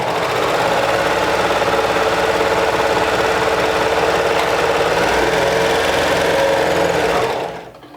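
A sewing machine runs continuously stitching the shoulder seams of a knit cardigan with a 3/8 inch seam allowance, a steady close mechanical whir that stops abruptly near the end.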